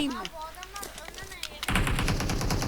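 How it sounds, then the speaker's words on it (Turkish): Shotgun and automatic gunfire in PUBG Mobile, a burst of rapid shots starting partway through and continuing steadily, loud and close, following a stretch of excited speech. "pompalı atıyorum dönüyorum"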